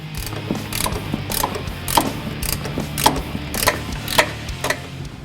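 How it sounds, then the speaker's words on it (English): A ratchet turning a nut on top of a Fox strut during a Ford F-150 suspension install, clicking in a quick, even rhythm of short bursts and sharp snaps close up, with no talking. "So I'm going to leave this pry bar right here and then remove the other 2 nuts up top"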